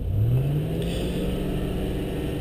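A Land Rover Discovery 3.9 engine with 14CUX fuel injection revs up briefly, then holds a steady, loud mid-pitched drone, heard close with no talking.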